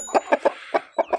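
A rooster kept for breeding stock clucks in six short, sharp bursts spaced evenly, close and clear with no other sound around them.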